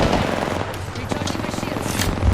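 Rapid automatic gunfire rattles through a firefight in the video game Apex Legends, loud and continuous over a dense layer of game noise, with a voice speaking at times.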